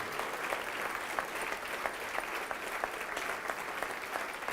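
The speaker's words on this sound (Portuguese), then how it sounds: "E vamos aplaudir mais ao Senhor Jesus." A church congregation claps together in a dense, steady round of applause, even and sustained throughout.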